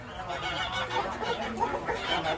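Chickens at a children's play farm cluck and honk in a dense, continuous chorus nearby, with faint voices in the background.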